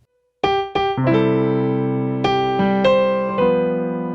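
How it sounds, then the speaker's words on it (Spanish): A simple, steady Happy Birthday melody picked out on a piano in the traditional version, with sustained chords underneath, each new note ringing clearly over the fading ones, close and fairly loud. "el cumpleaños feliz tradicional suena así"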